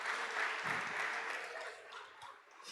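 A live audience applauds three young people at a religious gathering, a dense, steady wash of clapping that holds for a few seconds before thinning slightly at the end.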